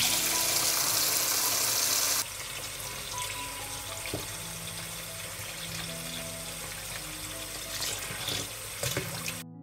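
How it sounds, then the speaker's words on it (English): Fresh blackberries rinsed under a running kitchen tap, a steady stream of water splashing near the microphone, louder at first and then settling into a softer continuous flow with occasional clinks. "I'll wash them first."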